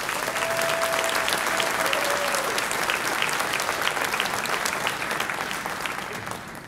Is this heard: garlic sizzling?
no